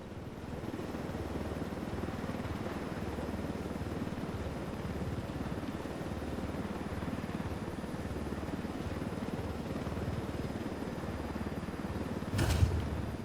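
Steady rotor drone of a helicopter in Ghost Recon Wildlands, a constant close whir with a brief thud just before the end.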